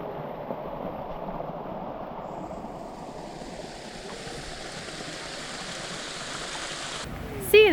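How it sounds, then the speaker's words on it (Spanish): A waterfall with heavy flow near El Chaltén in Patagonia gives off a continuous, even rush of water that holds steady throughout, ending with a sudden loud bump near the microphone. "ahora paramos para ver una nueva cascada. Vamos a ver qué tal es. Esta parece que tiene un montón de caudal."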